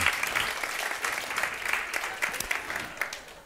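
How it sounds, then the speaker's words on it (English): A conference room of people claps enthusiastically for a few seconds, the applause gradually thinning and fading out. "Give yourselves a round of applause."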